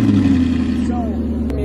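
An Audi R8 V8 with a valved exhaust idles loudly up close, a deep steady rumble with a slight pitch shift partway through, heard alone.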